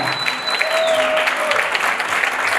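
Sustained audience applause fills a live band concert at a cultural event, dense and even throughout, with faint voices and a gliding tone mixed in.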